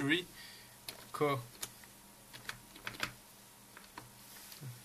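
A computer keyboard being typed on while entering a file name, with scattered, uneven key clicks at close range alongside a voice talking quietly.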